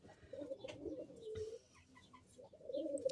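Pigeons cooing in a cage, soft repeated throaty coos in two phrases separated by a brief pause, fairly faint and close, with a few faint chirps in the background.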